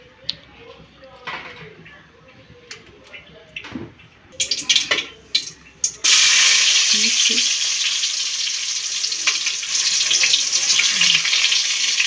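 Fenugreek, crushed garlic and onion hit hot oil in a cooking pot for a winter vegetarian vegetable dish, setting off a sudden loud, steady sizzle that follows a few seconds of clattering and handling noises.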